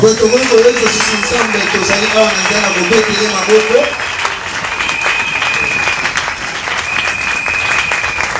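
A church congregation acclaims the Lord with applause at a New Year's Eve gathering, loud sustained clapping and cheering, with a voice speaking over it during the first half before the clapping continues alone.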